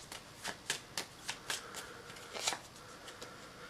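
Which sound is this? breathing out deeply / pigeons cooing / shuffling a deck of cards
shuffling a deck of cards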